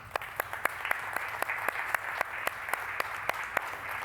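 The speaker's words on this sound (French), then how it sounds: "Je pense que ça vaut une main d'applaudissement." A French-speaking audience at a talk on access-to-information and language-services rights claps steadily, a modest room of sharp, evenly spaced hand claps at moderate volume with no one speaking.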